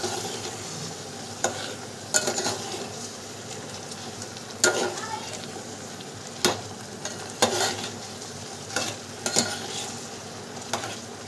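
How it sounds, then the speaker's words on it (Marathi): Masala spices fry in hot oil with a light continuous sizzle, broken by sharp intermittent scrapes and clinks as a spoon stirs them in the pan. "मसाला टाकला आणि तेलामध्ये मस्त आपण असं फ्राय करून घेऊ थोडासा मसाला परतून घेऊ"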